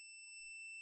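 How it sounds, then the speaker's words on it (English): A multimeter continuity beep while probing a through-hole capacitor on a SEGA Virtua Racing Mega Drive cartridge board: one steady, unbroken electronic tone that holds for the whole moment, faint and alone. "So hopefully we get a beep."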